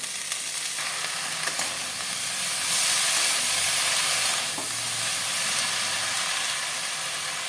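Washed bottle gourd greens tossed into a pan of frying vegetables, sizzling and hissing loudly with steam, rising in a burst as they land and then stirred in a steady crackle.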